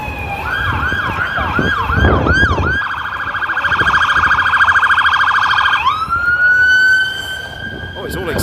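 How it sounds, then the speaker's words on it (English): An ambulance siren on an Antwerp street, loud and close: a quick series of rising-and-falling wails gives way to a steady, sustained tone that holds for several seconds, with no talking. "Oh, it's an ambulance."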